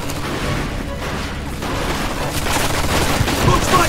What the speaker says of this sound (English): We found a machine gun!